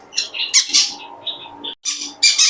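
Rose-ringed parakeets at a bird seller's give loud, harsh squawks and shrill calls in quick bursts, close by, with a short gap before the squawking resumes.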